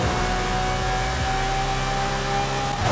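A Lamborghini Murcielago with an LB body kit, driven in Forza Horizon 5, accelerates hard with a loud, steady, high-pitched engine howl rising throughout, close and unbroken, no voices.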